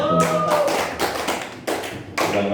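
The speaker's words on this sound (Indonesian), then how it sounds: "Wah, tepuk tangan." Audience clapping breaks out in bursts at an Islamic Quran knowledge quiz competition final, loud and dense with brief pauses between rounds of applause.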